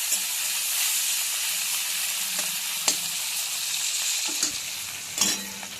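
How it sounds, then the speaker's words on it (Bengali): Finely chopped large tomato frying in hot oil for a vegetarian omelette curry, a steady close sizzle with a few sharp spatula scrapes and clinks against the pan. "এবার তেলের মধ্যে দিয়ে দিচ্ছি টমেটো"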